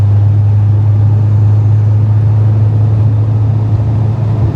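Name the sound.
car driving on a mountain road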